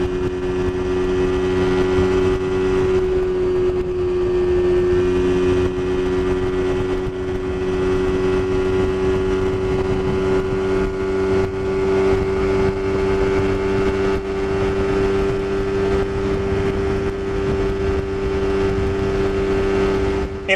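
A mid-size touring trail motorcycle engine holds a loud, steady high-rpm drone at top speed, one sustained tone with wind rush and no breaks throughout.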